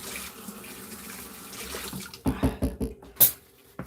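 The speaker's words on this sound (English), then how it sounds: "Just give it a rinse off." Water from a running tap splashes over a spoon as it is rinsed in a kitchen sink, a soft flow followed by a cluster of louder splashes near the end.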